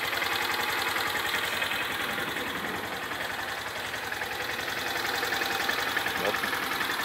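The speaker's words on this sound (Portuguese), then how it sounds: "E aí eu vou dar uma ligadinha aqui na moto para vocês verem." A Honda Start 160 motorcycle engine idles steadily throughout, a constant low rumble with a slight knocking texture.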